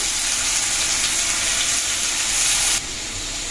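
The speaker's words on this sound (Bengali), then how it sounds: "তেলটা আমার গরম হয়েই গেছে এবার পেঁয়াজটা দিয়ে দেব" Three medium onions fry in hot oil for a mughlai paratha filling, a dense, even sizzling hiss heard close up with no voices, easing slightly lower near the end.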